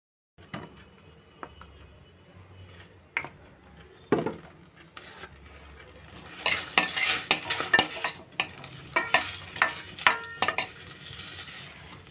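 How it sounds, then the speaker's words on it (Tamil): Shallots, curry leaves and tomatoes sauté in sesame oil for a spicy dried-fish curry, a quiet sizzle under repeated clinks and scrapes of a spoon stirring in the pan, growing busier and louder in the second half. "இது நம்ம நல்லெண்ணெய் போட்டு நல்லா வதக்க போகிறோம்"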